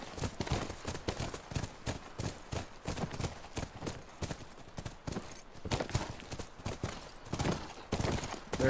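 Horse hooves in The Last of Us, a steady rhythmic clip-clop of hooves moving at a walk or trot, close and prominent throughout with no speech.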